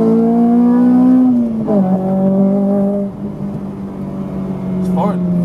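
Honda RSX revving hard through the gears, a loud rising engine note that drops with a shift and then bogs after a wrong shift into fifth, with the driver exclaiming over it.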